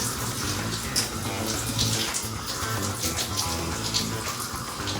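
Shower water streams steadily to rinse shampoo out of natural hair, a continuous close hiss and splatter with faint voices underneath.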